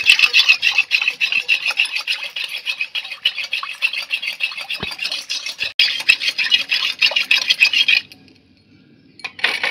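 Two spoons of sugar being stirred into coconut water, heard as a fast, rhythmic rasping scrape of a spoon against the vessel that runs continuously, then stops abruptly near the end.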